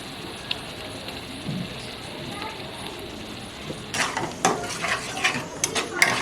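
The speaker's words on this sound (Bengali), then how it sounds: "এবার মাংসটা দিয়ে দেবো, দিয়ে 10 মিনিট মতো কষিয়ে নেব।" Minced chicken frying in masala sizzles softly in a pan, followed by louder scraping and clinking of a utensil stirring against the metal; a voice talks over part of it.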